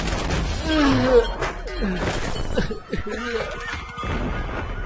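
A loud crashing explosion in Battlefield 3, followed by a jumble of smashing and thudding noises, with a voice talking over the din.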